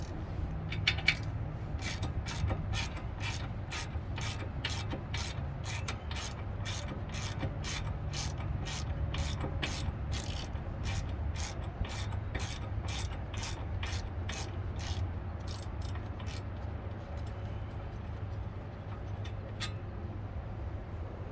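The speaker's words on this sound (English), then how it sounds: "I'm going to come back with my regular 3/8 drive ratchet and go ahead and get them out of there" A 3/8 drive ratchet clicks rapidly and evenly while backing out brake caliper bolts on a 2016 Jeep Cherokee 4WD rear brake, the sharp close ticks running in a long steady series over a low garage hum.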